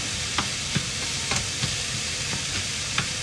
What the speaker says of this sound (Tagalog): nagigisa ng sibuyas